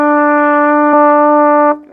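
A trumpet plays the same low E twice in a row, both notes loud and close, the first short and the second held longer before it stops cleanly.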